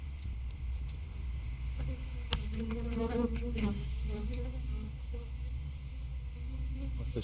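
Honeybees swarm the sides of a hive box during a nuc transfer, a steady, close drone of buzzing wings with a few louder individual passes mid-way.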